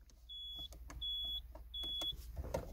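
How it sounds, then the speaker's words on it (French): Van alarm going off: three repeated high electronic beeps, each lasting under half a second, evenly spaced and fairly faint, with small clicks and handling knocks around them inside the vehicle. "Ah, déjà l'alarme s'est mise en route."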